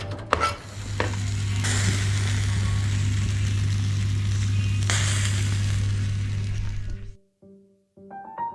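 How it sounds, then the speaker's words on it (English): A whole fish rubbed with salt and olive oil, stuffed with lemon, garlic and pepper, sizzles steadily on a grill in Bali over a constant low hum. The sound cuts off near the end, leaving a few small clicks. "stuffed it with lemon, garlic, and pepper, and threw it on the grill."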